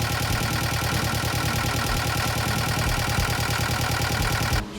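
A boat engine runs at a steady, even pulse, close and fairly loud, with a constant mechanical drone that cuts off near the end.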